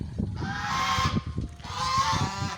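Farm ducks giving two loud, harsh honking calls in quick succession, close by and alone, with raspy nasal bursts overlapping.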